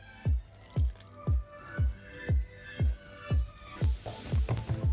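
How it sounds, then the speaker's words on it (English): Warm water drizzled into a pork fat and flour dough, giving a steady series of about ten wet squishy drips at even pace, close and fairly quiet, quickening at the end. "we're just gonna slowly drizzle some warm water in here"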